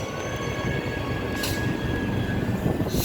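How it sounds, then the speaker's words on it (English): An EMU electric train pulls out from a station platform at Clarkson on a windy day, with a steady, close rail rumble and wheel noise running continuously throughout. "Now departing platform 2, we have a Butler service."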